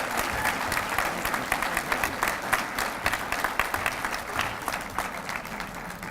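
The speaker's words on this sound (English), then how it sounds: "a warm round of applause" Commencement audience in a large hall applauds steadily, a dense even patter of many hands clapping for several seconds, fairly distant with no voices on top.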